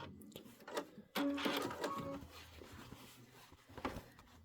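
Sewing machine stitching slowly on a Christmas Flight quilt project, a close, soft mechanical whirring with short stop-and-start bursts and faint clicks, quiet and without talk.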